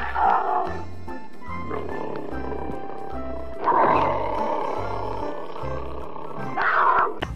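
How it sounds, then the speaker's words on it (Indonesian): Two tigers roar in the video game Jurassic World Evolution 2, with deep growling roars rising a few times over a rhythmic low musical pulse. "Dan yang terakhir, ada 2 ekor harimau."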